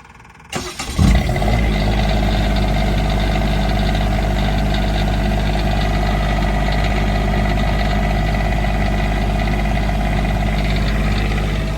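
Diesel engine of a 2023 Verona 36VSB RV cranks briefly and catches, then settles into a steady, loud, low rumbling idle that runs on without speech.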